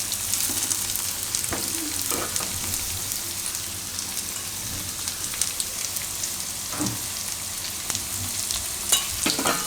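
Carrots and green beans cook in an oiled pan with a little salt, making a continuous rain-like crackling sizzle with a few soft stirring knocks and scrapes, close and steady without speech.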